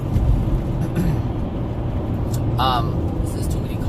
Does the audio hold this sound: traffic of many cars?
yes